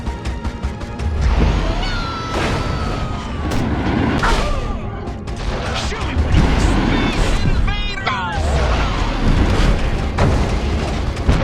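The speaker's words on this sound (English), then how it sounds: "Use your repulsotron, Crypto! Destroy those incoming missiles!" Missiles blow up in the Destroy All Humans! game in a dense barrage of loud booms and crashes, mixed with shouting voices and other game effects.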